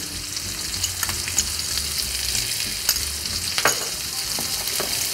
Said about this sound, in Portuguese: vou ligar então com a pasta de manteiga, alho e ervas